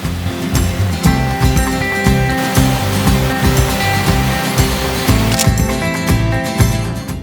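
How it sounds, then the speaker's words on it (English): Devil's Punchbowl waterfall on New Zealand's South Island, a loud, continuous rushing roar of falling water that stays dense and steady throughout, with no voices. "I can hear the sound of waterfall is getting louder and the mist flowing towards me in the air."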